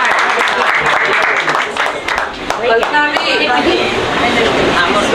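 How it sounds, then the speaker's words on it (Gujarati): Loud clapping at a 50th wedding anniversary celebration as guests applaud three people, a brief burst of hands with voices talking over it. "એક વાર જોરદાર તાળી 3 જણ માટે."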